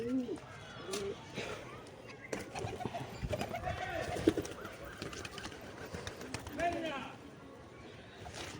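Pigeons coo softly in a loft during hot weather, their low murmuring calls recurring under a person talking, with rustling and scattered background noise.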